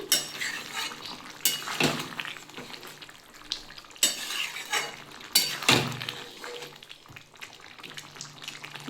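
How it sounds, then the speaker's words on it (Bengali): Prawn, cauliflower and potato curry is stirred in a pan, with a few distinct scraping clinks of a spoon against metal over a soft, steady simmering hiss, close and moderately quiet. "আর একটু ধনে পাতা দিয়ে দিলাম দিয়ে একটু নাড়িয়ে দিচ্ছি"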